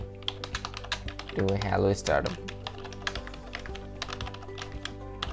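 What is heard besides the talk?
typing text on a computer keyboard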